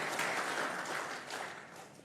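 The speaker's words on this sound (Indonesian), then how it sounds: "Tepuk tangan sekali lagi untuk para panelis dan moderator." Audience applause for the panelists and moderator at an Indonesian diplomacy forum, a steady wash of clapping sustained for about two seconds that tapers slightly toward the end.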